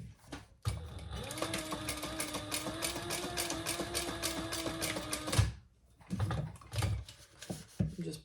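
A sewing machine runs steadily for about five seconds, stitching a fabric messenger bag with repeated stitching, followed by a few shorter bursts of mechanism noise and handling; no talking.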